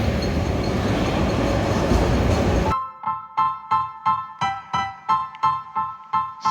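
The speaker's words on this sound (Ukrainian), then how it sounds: "І ось прибуває потяг і ми залітаємо на цей потяг." A metro train pulls into a Kyiv underground station: a loud, broad rushing roar gives way abruptly to a regular clickety-clack of wheels over rail joints, about ten evenly spaced beats, with faint squealing tones.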